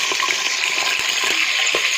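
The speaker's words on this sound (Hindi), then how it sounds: "तो अभी इसमें जो है ना पानी डाल लेते हैं" Water pours steadily into a pot of rice with peas, a continuous splashing rush with small clinks and bubbles, close and alone without talk.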